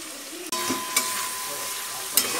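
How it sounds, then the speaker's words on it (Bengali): Ground spices, turmeric, salt and cumin, stirred and fried in a pan, a steady sizzle broken by a few sharp scrapes and clinks of the spoon against the metal. "ভালো করে মশলাটা নেড়ে নিই।"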